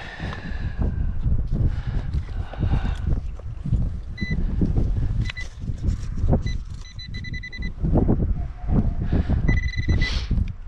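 Strong gusting wind buffets a microphone outdoors during a metal-detecting treasure hunt, a loud continuous low roar that swells and dips in waves, with faint tonal beeps from a detector over the top.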